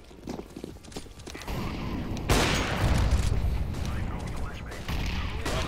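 Gunfire in Counter-Strike, a burst of shots with a heavy, dense spell of firing partway through, loud and close, mixed with game noise and excited talk.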